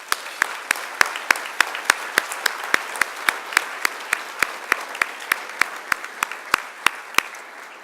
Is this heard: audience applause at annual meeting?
yes